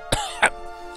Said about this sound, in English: Nonton coughs.